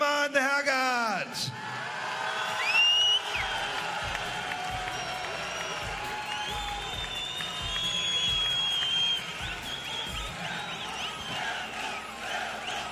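A crowd at a We love MMA cagefight event in Hamburg applauds and cheers for MMA fighter Hermann Hergert, with sustained clapping, whoops and whistles filling an arena.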